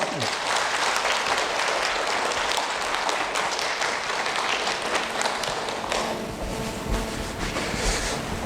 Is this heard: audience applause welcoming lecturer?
yes